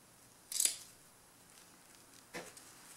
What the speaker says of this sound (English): And we're going to snip a little hole in this.